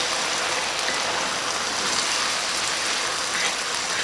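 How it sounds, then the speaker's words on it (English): Half a cup of bourbon bubbling and sizzling in a pan for bacon onion jam, a loud, dense, steady hiss and crackle throughout. "We're going to let that cook and bubble for about 30 seconds."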